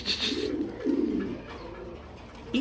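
Pigeons on a farm give two low, soft coos in quick succession, close by and fairly quiet, against a faint background hiss.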